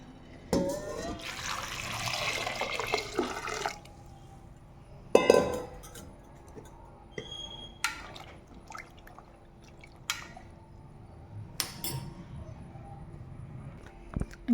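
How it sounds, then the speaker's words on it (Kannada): Three glasses of water poured into a sambar pot with spices for mixed vegetable sambar, splashing in short bursts separated by quiet gaps, with light clinks of glass and metal in between. "ನೀರು ನಾನು 3 ಗ್ಲಾಸ್ ತೊಗೊಂಡಿದ್ದೀನಿ."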